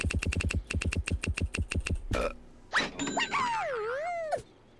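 Rapid, evenly spaced computer keyboard keystrokes typing an answer in the trivia game You Don't Know Jack, followed by a rising and falling synthetic game tone.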